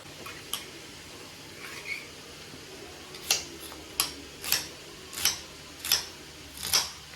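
Knife cutting shallots for a mutton tawa fry: faint, sharp chops that start sparse and settle into an evenly spaced rhythm of crisp strikes.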